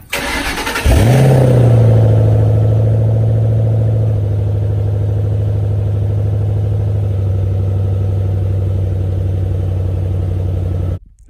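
A one-owner 2007 Roush Mustang GT with about 23,000 original miles cranks and fires after a moment of quiet, then settles into a loud, steady, deep idle that runs close by without a break until it is cut off at the end.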